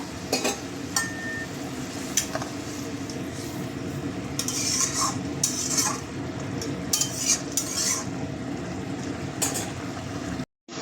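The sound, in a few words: adding fried fish to simmering curry and stirring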